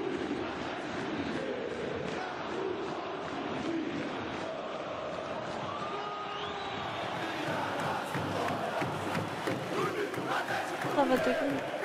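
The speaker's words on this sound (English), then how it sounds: "A good crowd, Jesus." Brazilian football supporters in a packed stadium chant together in a sustained, dense roar that stays loud throughout, with rising voices and whistles near the end.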